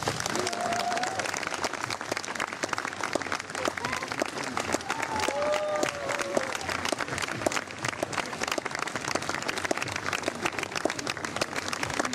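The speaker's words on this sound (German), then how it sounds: "Begrüßen Sie bitte mit einem donnernden Applaus" Thunderous audience applause at an open-air theatre stage show, a dense steady wash of clapping lasting over ten seconds with a few voices and whistles mixed in.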